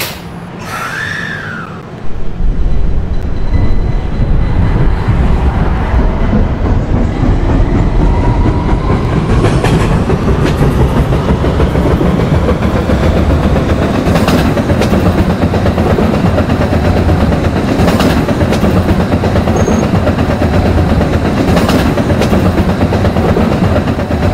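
Q Express subway train on the PTA Subway line in Roblox, running bound for Ridgeworth Island: a steady, loud rolling rumble with rail clatter and occasional high squeals, building after a short quieter start and continuing throughout.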